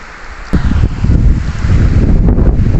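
Wind gusts roar and buffet the microphone beside a river in Abra, a steady loud rush with low rumbling that swells after a sudden bump and stays strong throughout.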